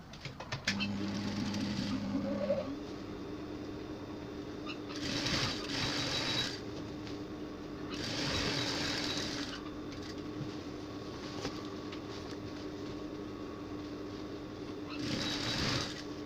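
Sewing machine running in bursts along a dress seam from sleeve to hem, a buzzing mechanical whir that starts and stops several times, with quiet pauses and faint background noise between runs.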